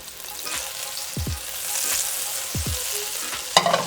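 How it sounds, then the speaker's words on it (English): Butter melts in a pan with olive oil and sizzles with a steady frying hiss. A few soft stirring scrapes and a utensil clink are heard near the end. "I'm going to put in just a little bit of butter,"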